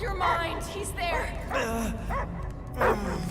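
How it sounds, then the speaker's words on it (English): A dog barking and whimpering in the Guardians of the Galaxy video game, short yips and barks mixed with characters talking over tense game audio. "I hear only barking."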